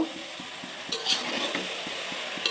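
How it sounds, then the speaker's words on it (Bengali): Rice is stirred and fried in a pan at a village home: a soft sizzle runs under regular, rhythmic scraping taps of the spatula, close and fairly quiet, with no talking. "এখন আমি এগুলো ভালো করে নেড়ে চেড়ে ফ্রাই করে নেব"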